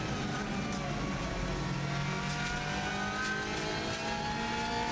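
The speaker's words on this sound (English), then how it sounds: "I'm changing gear with the paddle on the right hand side, pull it back to go up the gears and push it away to go down" A Subaru Impreza rally car with a fast-shifting 6-speed paddle gearbox accelerates hard with a loud, continuous engine roar and rising pitch. Quick gear changes briefly break the drone, and road and wind noise run underneath.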